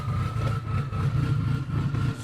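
A Dodge SRT-4 race car engine idles loudly and close by, giving a steady, lumpy low rumble with a faint whine above it and no voices.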